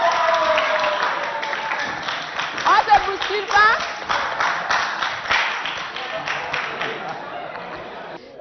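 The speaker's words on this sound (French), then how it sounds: "Cher public, on applaudit pour les deux représentants." Audience at a Chadian high school quiz contest in Abéché applauding two student representatives, a broad clapping wash running throughout beneath a host speaking French.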